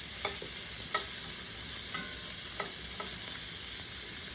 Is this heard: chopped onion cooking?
yes